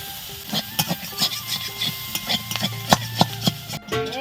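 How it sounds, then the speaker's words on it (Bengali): River mussels fry in a pan, with a soft sizzle under a series of close, uneven scraping and clinking strokes as they are stirred, ending in a brief shuffle, with no talking. "আর কি এই দিয়ে ভেজে নিচ্ছি"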